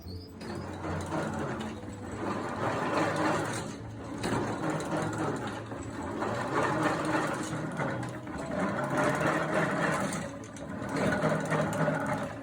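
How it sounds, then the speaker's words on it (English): A machine rolls shoe leather under pressure of several tons to compact the fibres, giving a steady mechanical whirr and rumble that runs the whole time with slight swells, moderately loud and close. "Each piece of shoe leather is then rolled 3 times."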